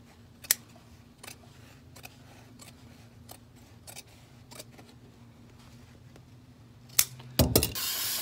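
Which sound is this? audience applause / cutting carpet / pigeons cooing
cutting carpet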